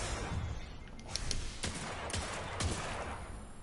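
Gunfire in the video game Destiny rattles through a steady noisy bed, with several soft shots and bursts spread across the moment, fairly faint and with no talk.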